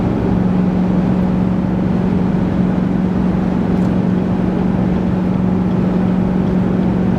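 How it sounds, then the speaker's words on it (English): Strong headwind roars around a 2023 GMC Sierra pickup climbing at highway speed while towing a 20-foot travel trailer, a loud, constant rushing drone with a steady low hum underneath and no voices. "there is a terrible headwind. You can probably hear it."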